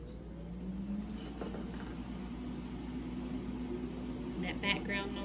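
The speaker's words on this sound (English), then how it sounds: "That background noise is my chocolate tempering machines," Chocolate tempering machines run in a home kitchen during lollipop making, giving a steady low droning hum throughout with faint intermittent clinks of glass or utensils nearby.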